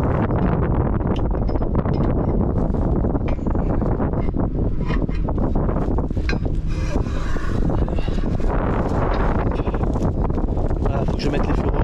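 Gusty outdoor wind blows dust around, a steady broadband roar and buffeting that fills the whole stretch, with someone talking over it.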